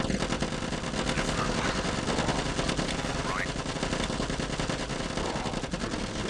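Rapid automatic gunfire mowing down zombies in the Zombie Defence video game, dense continuous rattling bursts that stay loud and unbroken for the whole stretch, with faint voices beneath.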